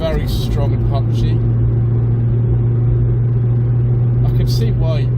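A 1994 Volkswagen Corrado 2.9 VR6 drives at speed with a steady, loud engine drone and road rumble heard from inside the car, while a person talks over it.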